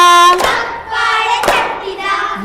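Hands clap in a children's action song, a loud single clap followed by another sharp clap about a second later, between stretches of sung melody.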